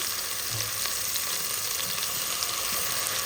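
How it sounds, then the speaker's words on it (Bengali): Vegetables for a Chinese-style stir-fry sizzle steadily in a pan as soy sauce goes in, a dense, continuous frying hiss with no voices. "এখন আমি এরপর কিছু সয়া সস অ্যাড করে দেবো"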